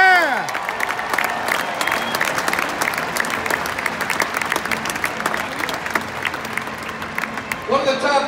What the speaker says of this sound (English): Give a round of applause for Lance Hicks.